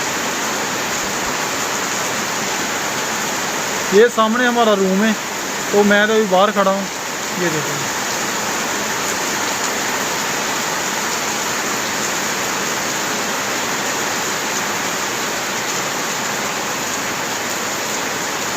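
Heavy rain pours in a dense, steady hiss on a street in Kuala Lumpur's Jalan Seri Sentosa area, loud and continuous, with someone speaking briefly over it.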